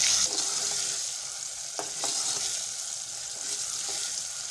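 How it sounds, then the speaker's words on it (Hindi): Tomatoes cook in a hot pan for a potato and egg dish, giving a continuous, even sizzle with a couple of faint stirring clicks, steady and close with no one speaking. "अब इसमें हम टमाटर शामिल करेंगे। इसे 2 मिनट तक पकाएंगे ताकि ये टमाटर अच्छी तरह गल जाएं।"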